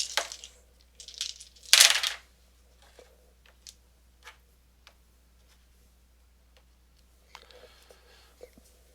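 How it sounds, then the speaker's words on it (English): Dice being re-rolled during a tabletop game of Sushi Roll: a quick clatter of dice tumbling across a surface, loudest around the two-second mark, followed by a few faint clicks and light taps, no talking. "I'm going to re-roll my dice."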